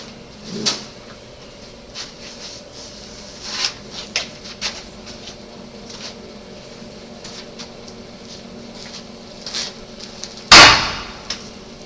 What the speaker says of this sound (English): Grab your hammer and just tap it just a little bit.